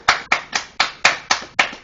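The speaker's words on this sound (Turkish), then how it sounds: "Alkış." Seven sharp, evenly spaced hand claps in a steady beat, close and loud, with nothing else underneath.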